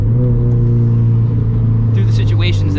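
A turbocharged Toyota FRS with a titanium center-exit exhaust cruises along with a loud, steady low engine drone close by. A person talks over it toward the end.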